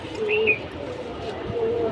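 Silver pankhi pigeons in a loft give a few soft cooing calls, one short call early and another near the end, fairly close over a low background hum.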